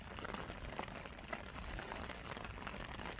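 Steady rain falling beside a big river during a pike fishing trip in the UK, a dense continuous hiss of drops with soft patters, close and even, with no talk.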